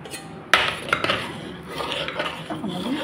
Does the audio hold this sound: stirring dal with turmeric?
yes